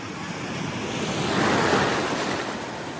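Ocean waves surge and wash at sea on a boya fishing trip, a steady broadband roar swelling to a peak midway with wind buffeting the microphone, no voices.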